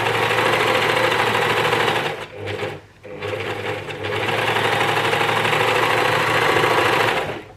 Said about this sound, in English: Just make sure that we're not catching the yoke as we overlock here.